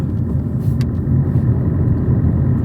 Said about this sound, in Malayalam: ഈ വണ്ടി വരുന്നത് മറ്റൊരു കാഴ്ചയാണ് കേട്ടോ